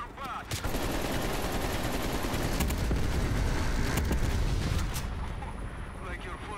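Sustained heavy automatic fire from a vehicle-mounted gun in Black Ops Cold War, a loud continuous roar of rapid shots lasting several seconds before trailing off, with no voices over it.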